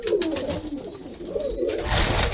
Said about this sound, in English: Some serious pigeons in here